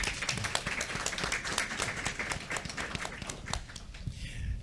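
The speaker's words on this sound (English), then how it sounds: "give a big round of applause to MPP Deepak Anand" A small gathering at a community talk on newcomer financial advisors claps for a provincial politician, sparse distinct hand claps rather than a dense roar, fairly close and uneven in rhythm.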